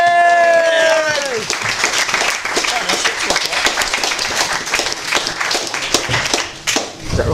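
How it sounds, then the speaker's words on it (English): A comedy club audience at Trent House breaks into loud, sustained clapping and cheering that lasts throughout, just after a tune fades out at the start. "so let's put your hands together"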